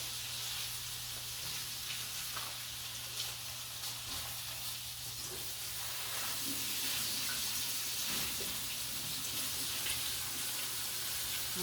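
A sink tap runs steadily while food is washed in a home kitchen, with a constant broad hiss, a low hum beneath, and faint clatters now and then.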